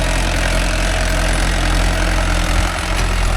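Mahindra 575 DI tractor engine runs at a steady idle in a dryland field, with a dense, rumbling low drone that stays constant and loud throughout.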